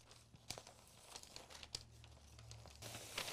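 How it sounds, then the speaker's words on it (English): Vinyl stencil being peeled up off a Flex Seal doormat, giving a run of close crinkling, crackling tears with sharp bursts scattered through a steady rustle. "So we're going to peel all of this up"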